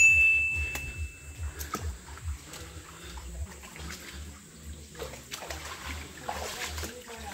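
Barefoot footsteps splashing through a shallow stream in a hill valley while walking in a group, with irregular sloshes and splatters nearby under background voices.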